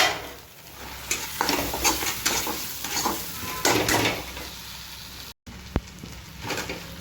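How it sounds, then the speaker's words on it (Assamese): Fish roe frying in a pan makes a close, crackling sizzle with bursts of spitting and the scrape of stirring, broken by one brief dropout and a sharp utensil tap. "মাছৰ কণী অকণমান ভাজি আছোঁ"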